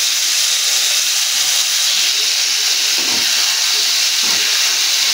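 Fried potatoes tipped into a hot pan produce a loud, dense, unbroken hiss of sizzling oil, close and steady throughout with a couple of faint thuds underneath and no talking.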